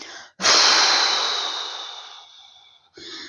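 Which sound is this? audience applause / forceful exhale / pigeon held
forceful exhale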